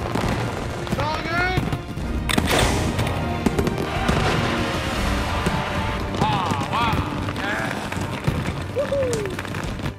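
Large fireworks shells from steel cannons burst around the Peace Tower in a rapid, loud barrage of booms and crackles, with whistling rockets and crowd voices mixed in.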